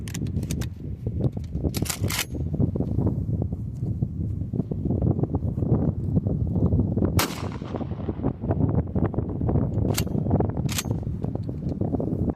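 A rare prototype Remington 1740 double-barrel pump shotgun fires both barrels at once with 12-pellet double-aught buckshot: several loud, sharp blasts ring out over constant heavy wind noise outdoors.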